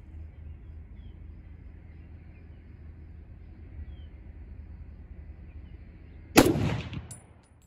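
A single loud M1 Garand rifle shot cracks out after several seconds of quiet outdoor background, followed by a brief decaying echo.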